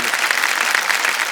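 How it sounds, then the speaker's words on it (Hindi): A studio audience on a Hindi KBC India quiz show breaks into brief, dense applause, a loud continuous clatter of many hands clapping together. "तालियां बज जाएं वीरेंद्र जी के लिए"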